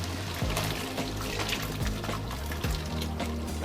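Water is poured into a thick mutton masala gravy with potatoes in a pot, giving a steady splashing pour at close range, with no one speaking.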